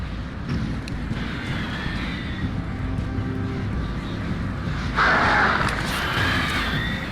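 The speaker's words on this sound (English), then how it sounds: "Pesky birds." Crows cawing in the game Alan Wake, a few scattered caws rising over a constant windy outdoor ambience, with a louder harsh call near the end.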